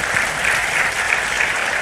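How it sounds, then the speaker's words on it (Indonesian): A church congregation applauds together during a sermon, a steady, dense wash of clapping that holds at an even level throughout with no talk over it. "Wow, tepuk tangan buat Tuhan Yesus."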